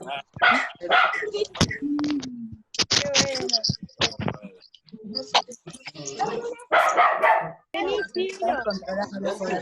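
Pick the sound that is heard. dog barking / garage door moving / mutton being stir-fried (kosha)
dog barking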